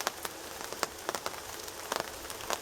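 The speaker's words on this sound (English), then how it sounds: "Lovely little rain shower." Light rain patters on the roof of a parked van at an evening campsite, a soft steady hiss dotted with faint irregular drops, quiet and close with no voices.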